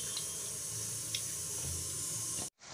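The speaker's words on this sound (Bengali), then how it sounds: "দেখো চালটা ধোয়া হয়ে গেছে।" Rice being washed for mutton biryani under a running tap, a steady, even rush of water into the bowl with a few small splashes before it suddenly stops.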